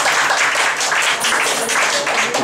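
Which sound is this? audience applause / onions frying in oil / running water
audience applause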